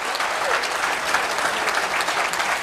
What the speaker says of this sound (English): please give my panelists a massive, massive round of applause